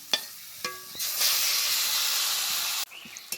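Fish fat and oil go into a hot pan for a Bengali fish-fat curry with eggplant, letting out a couple of sharp clinks and then a loud, even hiss of sizzling that cuts off abruptly.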